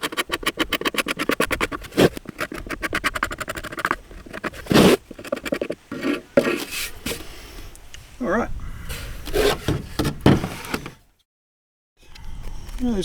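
Sanding an Oak Bell Colt 5B5 with a homemade high density foam sanding block: repeated raspy scraping strokes, close and fairly steady, with a brief silent pause near the end.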